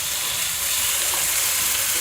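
Chopped tomato and onion drop into fish frying in a pan, with a steady broadband sizzle and a faint stir running evenly through the moment, no voices.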